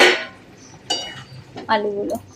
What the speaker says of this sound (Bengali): থালাটা উঠিয়ে দেখে নেবো সিদ্ধ হয়েছে না